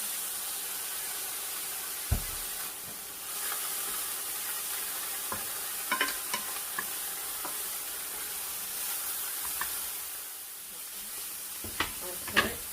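A little garlic frying in a pan, heard as a soft continuous sizzle with scattered clicks and taps of a utensil and a couple of louder knocks; fairly close, no talking.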